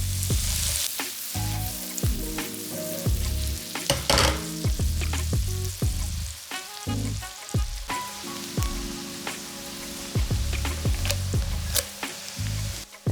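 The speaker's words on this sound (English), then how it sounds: "we immediately add the minced onion to the hot guanciale grease to saute it until it is tender and translucent" Minced onion sautéing in hot guanciale grease for Amatriciana, a loud close sizzle broken by frequent spoon scrapes and clacks against the pan, with no talking.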